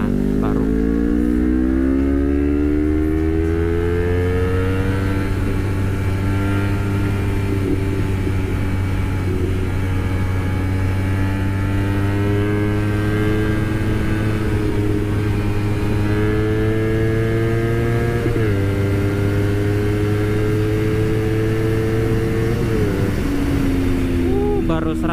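Honda CBR250RR motorcycle on a highway run, engine screaming at full throttle with rising whine through repeated gear shifts, loud and close over wind roar; a voice speaks briefly over it.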